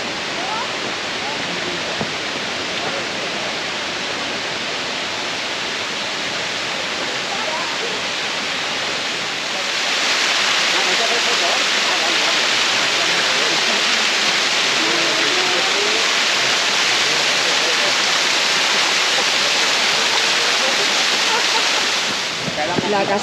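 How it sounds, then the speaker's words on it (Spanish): The Caprichosa waterfall at Monasterio de Piedra roars as a steady, loud rush of falling water, which swells noticeably louder partway through and holds throughout; there is no talk. "La cascada caprichosa."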